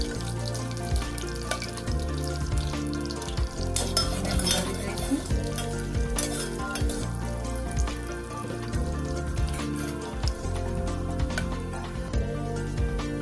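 Peanuts and curry leaves crackle and sizzle in hot ghee for moraiya khichdi while a spoon scrapes and stirs, with occasional metallic clinks close by.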